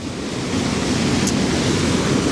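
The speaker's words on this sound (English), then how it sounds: "really do hope you can hear me over the thunderous water" Roaring waterfall at Mannum Falls: a loud, steady wash of rushing water filling the air, constant and close with no pauses.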